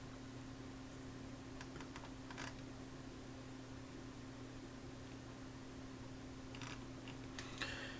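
Bursts of typing on a computer keyboard while entering commands during an Ubuntu 20.04 software installation, with quiet clusters of key clicks over a steady low fan hum.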